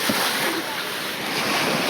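Ocean waves wash along a Pattaya beach lined with seafood stalls, a steady roar of surf mixed with wind buffeting the microphone.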